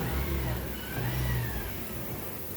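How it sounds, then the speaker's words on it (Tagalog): Nissan Juke engine with a misfire, heard close as it revs under throttle, a rough, wavering drone that rises and falls unevenly, with a voice speaking briefly over it. "okay ang idle pero pag tinapakan mo palyado"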